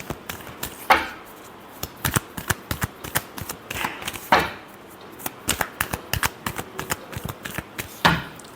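Tarot cards shuffled by hand during a reading, a rapid series of crisp riffling flutters and soft slaps repeating in bursts, close and fairly quiet, with no talking.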